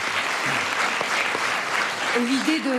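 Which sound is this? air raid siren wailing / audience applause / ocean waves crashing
audience applause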